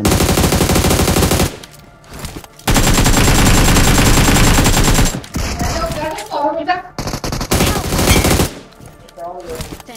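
Automatic gunfire in the battle-royale video game BGMI/PUBG comes as loud sustained bursts, broken by short gaps, with hits and scattered game effects between volleys.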